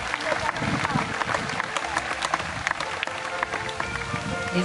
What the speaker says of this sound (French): Effectivement, Kali, ça mérite bien plus des applaudissements